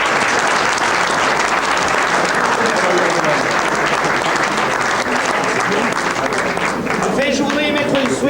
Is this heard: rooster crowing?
no